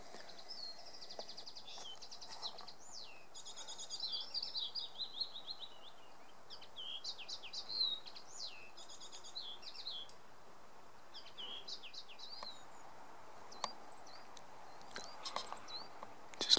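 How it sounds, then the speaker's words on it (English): Birds sing in Wolferton Woods, with bright chirps, trills and whistled phrases from several birds, some near and some distant, over a quiet background. "Just listen to the birds."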